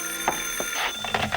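Telephone bell effect from a radio drama, ringing in a few short bursts that repeat, clear and fairly close in a quiet room.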